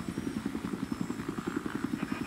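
A helicopter in the Battlefield 3 video game flies close by, its rotor giving a steady rapid thumping pulse over an engine drone, loud and continuous throughout.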